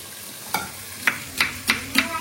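Onions sauté in a pan with tomatoes for mutton biryani, a low sizzle running under a series of evenly spaced spatula scrapes and knocks, about five close strokes.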